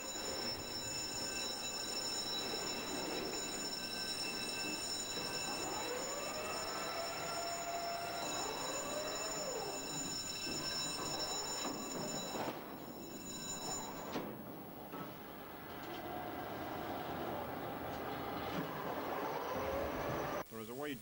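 A freight train idles beneath a gantry crane in a container rail yard at Dundalk, Ireland, with low rumbling, metallic squeals and a ringing bell, steady machinery hum throughout, distant and moderately quiet.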